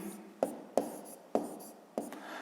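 A pen or pencil taps and scratches on paper while numbers are written by hand for a fifth-grade maths exercise, in four short, quiet strokes spaced evenly over a faint background hiss.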